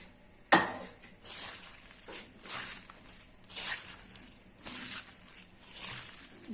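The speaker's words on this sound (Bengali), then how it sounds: "এখন উস্তাগুলো কষে নিতেছি।" Bitter gourd being stirred and fried in a pan, with a sharp utensil clack near the start followed by soft, irregular scraping and shuffling strokes close by.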